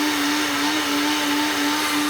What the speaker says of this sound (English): So we're going right to the blender.